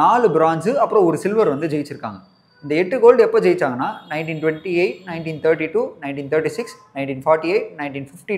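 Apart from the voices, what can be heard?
None of the usual background noises is heard.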